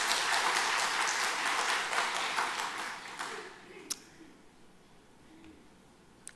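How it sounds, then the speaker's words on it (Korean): Church congregation applauding, a dense run of clapping that fades over about three seconds, followed by a sharp knock and quiet room tone. "여러분 박수 한번 주십시오."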